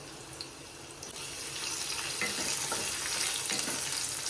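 Oil tempering with crushed garlic, mustard seeds and curry leaves gives a faint sizzle that swells after a quiet start and then holds as a soft, steady crackle, with no voices over it.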